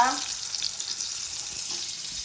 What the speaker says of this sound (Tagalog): Yan guys, ay piprito ko ng kamatis.